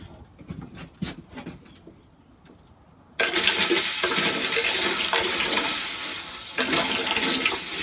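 Molten silver poured into a bucket of water erupts suddenly into a loud, sustained hiss and roiling sizzle lasting several seconds, preceded by quieter clattering and handling sounds.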